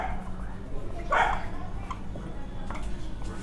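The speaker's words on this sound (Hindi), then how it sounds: "गली में आज कुत्ता भौंक रहा है" A dog barks out in a street, a brief, fairly faint yelp rising over steady background noise, with a couple of softer sounds trailing after it.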